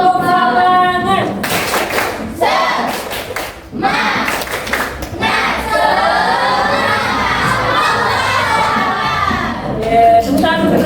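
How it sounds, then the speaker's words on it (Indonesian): A class of children joins a teacher in rhythmic spirit clapping, bursts of quick unison claps mixed with lively shouting and chanting voices, loud and close, with brief pauses between rounds. "Sekali lagi tepuk semangat."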